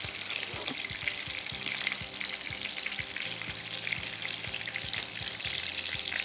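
Chicken for tonkatsu fries in a pan over low heat, a dense steady sizzle with scattered crackles and pops, close and moderately quiet, with nobody speaking.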